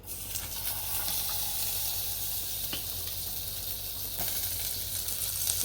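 Butter and oil sizzle steadily in a hot pan for red sauce pasta, a continuous crackling hiss with a few soft clinks, close and fairly quiet.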